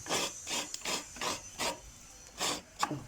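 Coconut flesh grated by hand on a traditional rabbit-shaped wooden scraper, giving repeated rough rasping strokes in an uneven rhythm, close and moderately quiet with short pauses between strokes.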